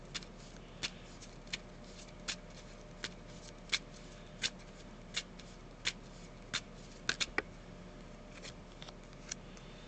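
Tarot cards shuffled and riffled in short crisp bursts, roughly one every second, with a quick double flurry near the end, close and fairly quiet over a low steady room hum.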